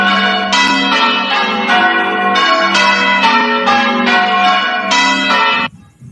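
Church bells peal in celebration, a steady sequence of bright, resonant strikes about every half second, loud and close, with the ringing stopping abruptly near the end.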